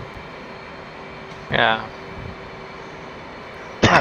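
Airplane engine drone in the combat flight simulator DCS, a steady mid-level hum running throughout, with a voice speaking briefly over it and a short burst of noise near the end.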